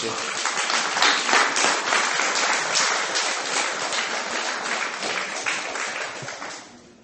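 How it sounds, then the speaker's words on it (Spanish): A church congregation at a Christian sermon applauds in a dense, sustained round, loud and steady for about seven seconds before easing off at the end, with voices mixed into the clapping. "Deme un aplauso al Rey nuevamente."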